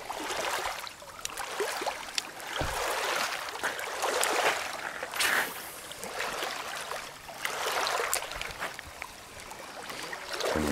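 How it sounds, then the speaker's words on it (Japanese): Waves wash and lap along the shore of Lake Biwa, its water level lowered, in a soft, continuous rhythm of swells and hissing water, fairly close, with no talk. "波の音がいいんですよ。"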